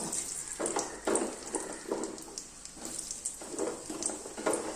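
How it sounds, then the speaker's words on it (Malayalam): Raw mango pieces fry in sesame oil in a pan, giving a steady close sizzle with soft repeated crackles and stirring scrapes, with no talk. "ഇനി നമുക്കിത് എണ്ണയിലിട്ടൊന്ന് വറുത്തെടുക്കാം"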